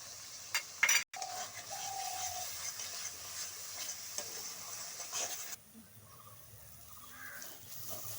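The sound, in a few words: spice masala frying and being stirred in a pan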